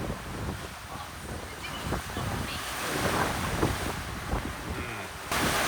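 Ocean waves slap and surge against a sailing yacht at sea in building wind, irregular splashes and hull knocks over steady wind rush picked up close by the microphone.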